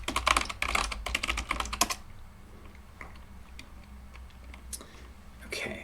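Password being typed on a computer keyboard, a fast burst of crisp key clicks up close for about two seconds, then quiet with a few scattered taps and a final small flurry.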